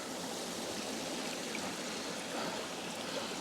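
A mountain valley stream spills over rocks into a waterfall-like pool, a dense, steady rushing and splashing that stays even and close throughout, with no voices.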